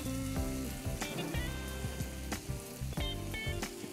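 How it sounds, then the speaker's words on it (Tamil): Tomato masala paste fries in oil in a pan with turmeric added, giving a steady close sizzle and crackle with occasional stirring scrapes, no voices. "ஸோ இப்போ தக்காளி வதங்கட்டும், வதங்கி அந்த ஆயில் கண்டென்ட் அப்படி வந்து வெளியில் வரும்போது நம்ம மசாலா சாட் பண்ணால் கரெக்டாக இருக்கும்"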